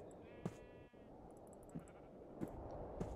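Sheep in the video game Homestead give four short bleats at irregular intervals, each brief and fairly clear above a low, steady background ambience.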